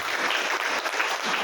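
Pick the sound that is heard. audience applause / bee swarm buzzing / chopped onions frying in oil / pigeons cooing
audience applause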